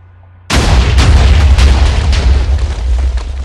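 A huge TNT explosion in Minecraft hits abruptly and loudly after a brief quiet moment, then rolls on as a sustained, dense booming roar with repeated blasts layered together.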